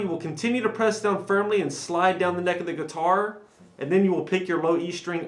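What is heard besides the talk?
No everyday noise stands out behind the speech.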